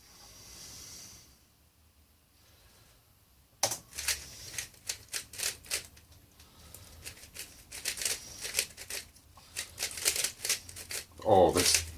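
Quick plastic clicks and clacks of a lubricated speed cube being turned, in rapid irregular bursts after a quiet start, close up, with someone talking over it.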